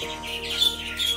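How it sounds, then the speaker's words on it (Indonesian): Asian pied starlings (jalak suren) squawking and chattering from breeding cages, a steady mix of harsh calls and bright whistles close by with no talk. "Ini dari kandang-kandangnya banyak sekali induk-induk dari jalak suren."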